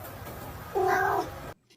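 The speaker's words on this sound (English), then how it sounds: "Little kitties." A cat gives one clear, fairly close meow partway through, louder than the steady low room hum around it, and the sound then cuts off into near silence.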